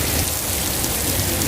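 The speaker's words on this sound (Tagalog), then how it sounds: "You want to go and dance in the rain." Steady, dense rain falls continuously on an outdoor surface in Abu Dhabi, a loud, even hiss with no breaks and no voices.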